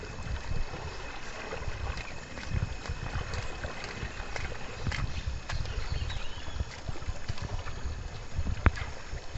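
Rising river water flows past as its level climbs, a steady broadband rushing roar with rumbling low surges and some wind buffeting on the microphone, continuous throughout without talk.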